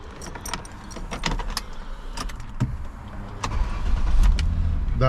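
A Jaguar X-Type's engine cranks and fires up, settling into a steady idle, with keys jangling and small clicks inside the cabin.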